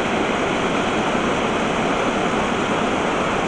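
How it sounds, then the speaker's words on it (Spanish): Waterfall on a small river in Galicia, a large cascade giving a loud, constant rushing roar of falling water with no breaks and no voices. "Es una fervenza bastante grande, aunque el río es pequeñito"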